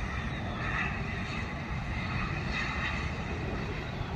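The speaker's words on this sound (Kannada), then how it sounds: "ಇದು ಏರ್ ಇಂಡಿಯಾ ಫ್ಲೈಟ್." An Air India airliner comes in to land, its engines making a broad, steady roar that swells slightly and holds for several seconds, with no voices.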